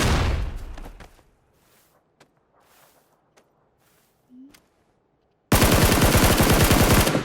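Gunfire in PUBG on PS4 on the Erangel map: a loud automatic burst at the start, then sparse, distant-sounding single shots, then a sustained, heavy rapid-fire volley at the end.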